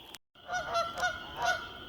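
A few geese honk in the woods, a handful of close, loud calls after a brief silence.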